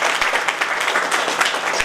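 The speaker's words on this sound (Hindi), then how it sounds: "सो जोरदार तालियां गुरु जी के लिए" Audience at a network-marketing event clapping loudly for their guru, a steady, dense burst of applause with no pause throughout.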